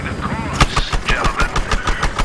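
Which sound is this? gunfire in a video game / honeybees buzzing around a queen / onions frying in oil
gunfire in a video game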